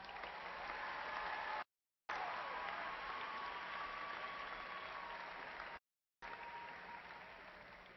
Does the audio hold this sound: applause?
yes